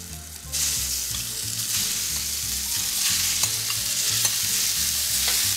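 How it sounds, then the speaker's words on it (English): Pork browns in hot oil in a pan with a loud, steady sizzle and frying hiss, while the pieces are stirred, giving a few brief scraping clicks throughout. "I'm going to just get the pork right in here and get this start to browning"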